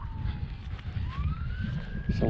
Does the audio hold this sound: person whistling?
no